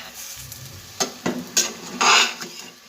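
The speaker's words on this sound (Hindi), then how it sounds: "ये देखें सारा मसाला इस तरह से अच्छे से हम सारा मसाला मिक्स कर लेंगे" Spice masala being stirred with potatoes for aloo samosa filling in a pan, a low sizzle broken by several distinct scraping and clanking strokes of a spoon, ending in a louder rough scrape, close by.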